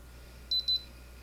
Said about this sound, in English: release the twister button and wait for the iron to beep